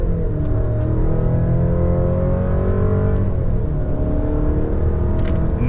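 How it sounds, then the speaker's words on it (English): A 2026 Chevy Colorado ZR2 TurboMax mid-size truck on 33-inch tires, in four-wheel-drive auto, is brake-revved and then accelerates hard from 0 to 60; a loud, close engine drone climbs steadily through a gear, with no talk. "We're gonna do a brake rev and see what this TurboMax can do."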